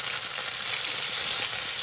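Tomato dropped into a hot pan with squid for a Filipino dish, giving a loud, steady, close sizzle and crackle of frying that continues without pause and without talk.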